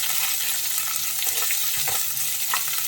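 Chopped ginger and garlic sauté in hot oil in a pan for a pineapple pickle, giving a steady close sizzle with a few light stirring scrapes, and no one talks.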